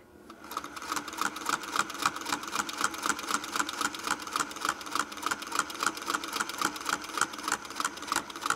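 A sewing machine stitching with a Westalee ruler template runs at a fast, even mechanical rhythm, a rapid steady clatter of needle strokes that starts quickly and carries on without a pause.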